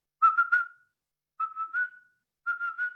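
A person whistles in imitation of the call a biologist used to lure an antpitta, in three short bursts of fluttering, warbled notes, each trailing into a sustained tone, clear and close with silence between them.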